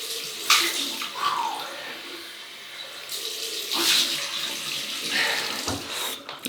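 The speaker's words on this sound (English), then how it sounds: "Cold water rinse" Cold water runs from a tap into a sink for rinsing the face after a shave with a stainless steel double-edge razor, a steady close splashing flow with a few louder surges and drips.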